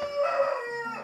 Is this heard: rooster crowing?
yes